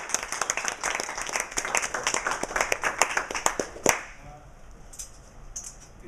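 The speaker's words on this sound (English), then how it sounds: "Another round of applause." Audience at a Toastmasters meeting claps in a dense, lively burst of applause close by, sharp individual claps thinning out and stopping abruptly near four seconds, followed by quiet room tone.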